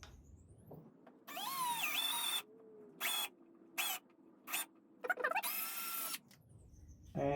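An electric drill set to its lowest speed grinds a bit slowly through a workpiece in a series of close, whining bursts: one long run, several short pulses, then another sustained stretch, with quiet gaps between.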